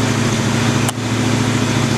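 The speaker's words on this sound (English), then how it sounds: "this is the first startup with the new exhaust system" Ford Maverick idling on its first startup with a freshly fitted custom exhaust at an exhaust shop, a steady low rumble held close and loud, broken by one brief sharp click partway through.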